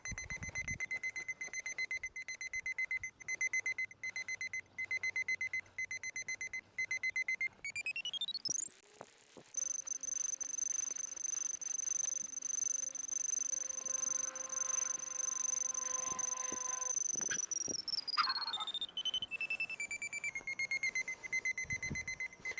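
A steady electronic tone from a wire locator tracing a buried dog-fence wire drones for a long stretch, shifting pitch up and then back down, with faint clicks and rustling under it.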